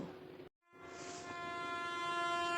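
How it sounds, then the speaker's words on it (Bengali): A train pulls in along the rail line, its horn sounding as a long steady tone over a low rolling rumble that builds and grows louder after a brief silence. "রেল লাইনে ঘড় ঘড় শব্দ উঠছে। ট্রেন সত্যি সত্যি এসে গেল।"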